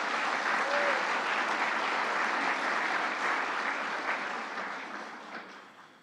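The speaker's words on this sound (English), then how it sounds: "if we could give them all a quick applause" A crowd at the Department of the Interior applauds the staff, a full steady patter of many clapping hands that holds strong and then tapers off toward the end, with a brief faint voice near the start.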